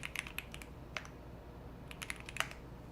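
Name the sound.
typing on Bubble 75 mechanical keyboard with Aqua King switches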